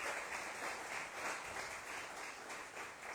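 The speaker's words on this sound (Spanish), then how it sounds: "Denle un aplauso al Padre" A church congregation applauds during a Spanish-language service, a faint, distant and steady wash of many hands clapping.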